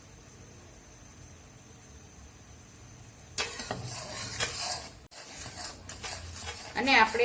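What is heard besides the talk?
stirring the adadiya pak mixture in a pan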